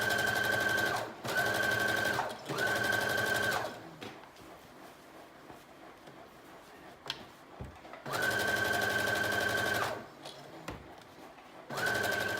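A sewing machine runs a long straight stitch in bursts, whirring steadily for a few seconds, pausing, then starting again, close and alone with no talk.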